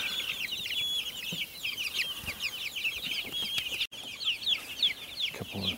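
A backyard flock of young, fast-growing chickens clucks and chirps continuously, many overlapping high peeping calls at moderate distance, fairly quiet with no talking.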